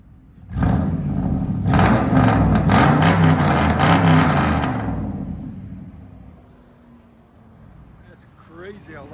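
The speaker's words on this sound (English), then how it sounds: "That's crazy how loud it is." Dodge Dakota pickup, nearly twenty years old, with straight-pipe stainless exhaust, roaring through a long series of hard, choppy revs up close before settling to a low idle, with voices talking over it.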